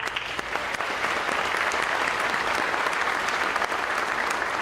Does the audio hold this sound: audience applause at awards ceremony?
yes